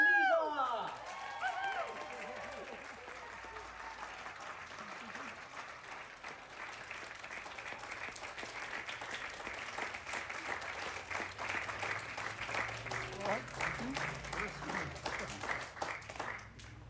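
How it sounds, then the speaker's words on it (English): Sustained audience applause in a Bristol poetry performance venue, welcoming a poet to the stage; dense clapping builds and continues steadily for many seconds, with a few voices talking briefly at the start. "so you had to clap for like ages"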